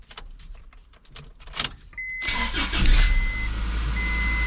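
A Honda car cranks and its engine fires up on a newly programmed key, with a short starter whir followed by a steady, loud idle and a faint electronic chime.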